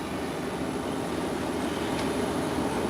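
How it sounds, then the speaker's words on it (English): Inter-Caribbean Embraer 120 turboprop airliner taxiing, a steady low engine drone and broadband rumble holding at a constant moderate level throughout, with no voices. "While Inter-Caribbean Embraer 120 is heading to the taxiway in preparation for takeoff."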